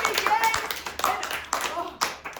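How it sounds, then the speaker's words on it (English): A group of people clapping their hands at an indoor comedy performance, a few sharp rhythmic claps, loud and close. "I need everyone to clap your hands"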